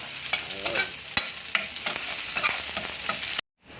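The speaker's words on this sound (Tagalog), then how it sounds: "Isusunod natin ibagsak ang ating sibuyas na pula galing ng Nueva Ecija" Chopped red onion from Nueva Ecija dropped onto garlic already sautéing in a pan for pork sinigang, a loud close sizzle with steady frying hiss and occasional stirring scrapes before an abrupt cutoff.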